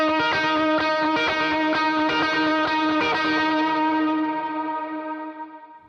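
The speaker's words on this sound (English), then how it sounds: "So this is what the verse tone will sound like for the little picking part." Electric guitar verse tone for a picking part, boosted through a King of Tone pedal, playing clean-driven picked notes with echo and reverb, loud and steady for about four seconds before ringing out and fading alone.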